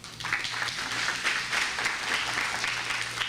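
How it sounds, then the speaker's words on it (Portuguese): Steady applause from a church congregation, many hands clapping evenly at moderate volume for the whole stretch, with no voices standing out. "Aplauda bem forte ao Senhor."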